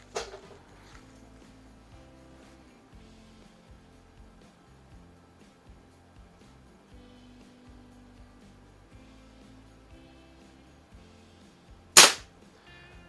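An eighty-year-old Benjamin 137 pistol fires two sharp, loud cracks, one at the start and one near the end, each standing alone with a long quiet stretch between them.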